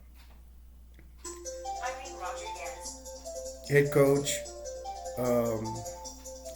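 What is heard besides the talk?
mobile phone ringtone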